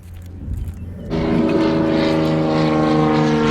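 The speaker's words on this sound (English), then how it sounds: "The plane, boss, the plane." A propeller airplane flying overhead, its engine drone rising sharply and then holding as a loud, steady harmonic roar close by.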